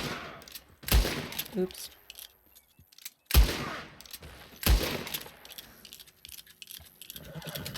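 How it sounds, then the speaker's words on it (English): Three loud, sharp gunshots from a Western-style firearm in the video game Red Dead Redemption ring out a few seconds apart, mixed with game clatter and brief speech. "Well, I can shoot you."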